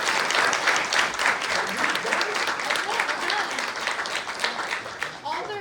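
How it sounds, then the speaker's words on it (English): Loud, sustained applause from a sizeable crowd after a panel discussion, dense clapping that continues throughout and begins to thin out toward the end. "let's give them a really big round of applause"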